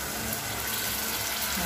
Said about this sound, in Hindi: जार में थोड़ा सा पानी डालकर